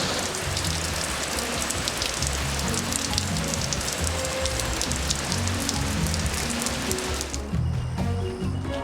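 Heavy rain pours onto muddy clay ground in Paraguay, a dense, steady hiss with scattered drops spattering nearby. Near the end the downpour abruptly thins and fades, leaving only sparse drips.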